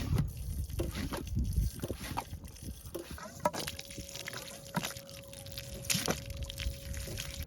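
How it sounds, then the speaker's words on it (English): A small hand pump draws water out of the flooded interior of a 2011 Mercedes-Benz C300, giving a steady wet sloshing and trickling with scattered sharp clicks and drips, fairly close and without speech. "This side goes in the water. This side the water comes out of. I just do that and suck the water out."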